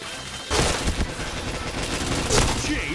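Gunfire in the Point Blank online shooter rattles in dense, overlapping bursts, with louder shots near the start and toward the end over a continuous noisy game background.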